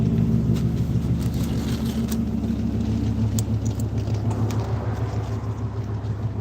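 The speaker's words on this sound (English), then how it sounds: "I'm waiting for the car to leave" A parked car's engine idles close by with a steady, low rumble that holds evenly throughout, no voices over it.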